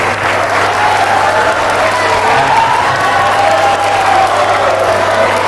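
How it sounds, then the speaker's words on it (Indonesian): Classroom of students applauding a classmate who answered a question about the Prophet's lineage, dense steady clapping with some crowd noise, loud and close throughout. "Tepuk tangan dulu untuk teman yang keren jawab."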